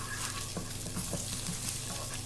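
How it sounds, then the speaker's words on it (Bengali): Close, steady sizzling of spice masala frying in oil for chicken pulao, with soft intermittent stirring scrapes throughout. "আমি একটু সময় নিয়ে মশলাটা ভাজা ভাজা করি"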